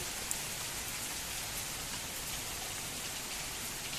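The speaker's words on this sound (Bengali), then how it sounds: "এই যে বৃষ্টি পড়ছে" Steady rain pours down, a dense, even hiss of drops spattering on surfaces throughout, with no voices.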